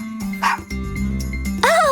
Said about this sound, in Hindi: वो अपनी पूंछ हिलाने लगा और खुशी खुशी भौंकने भी लगा